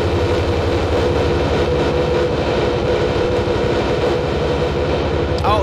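A CH-47 Chinook helicopter in a military video game, its rotor thumping in a steady low rhythm under continuous engine drone, loud and close throughout.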